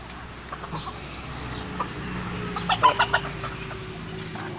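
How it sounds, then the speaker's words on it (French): Chickens and roosters cluck and murmur steadily at close range inside a coop, with a few louder clucks rising briefly over a constant low background hum. "Là il y a tous les poules et les coqs qui dorment dans le chalet"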